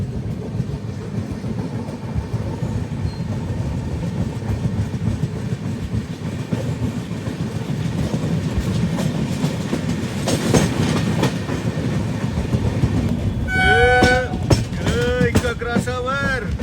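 Passenger train wheels clatter over a railway crossover on the Varanasi to Mumbai Mahanagari Express, a steady rolling rumble with a burst of rhythmic clacks near the middle, ending with squealing wheel screeches.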